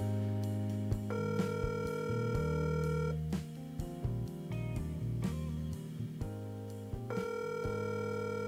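Telephone call tones after dialing a number at 3 a.m., steady held tones that shift in pitch several times with short breaks, fairly clear and alone.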